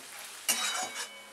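Ingredients roast in a pan for chicken rice and are stirred, giving a soft sizzle with a few short scraping bursts of a spoon against the pan over a brief moment.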